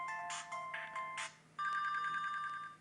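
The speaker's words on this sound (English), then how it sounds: "I can choose one of many ringtones if I wanted" An HTC Legend phone ringtone plays a short electronic melody of bright tones, then a second sustained ringing pattern begins, clear and close with no voices.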